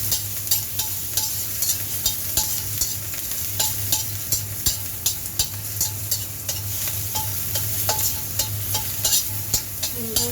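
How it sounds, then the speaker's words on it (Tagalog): Onion and garlic frying in hot oil in a pan while being stirred, with a steady close sizzle and repeated sharp clicks of the utensil against the pan throughout, with no talking. "Pag mainit na yung mantika, lagay natin tong sibuyas. Halo natin ang bawang."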